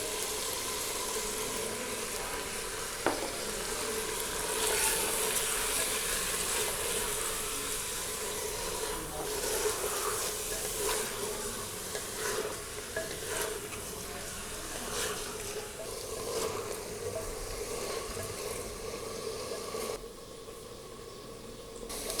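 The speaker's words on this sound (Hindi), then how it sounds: "फ्राई करते वक्त हम साथ ही लहसुन पेस्ट शामिल करेंगे।" Chicken fries in oil with garlic paste for a Desi chicken jalfrezi, giving a continuous soft sizzle and hiss with faint stirring scrapes, which drops away near the end.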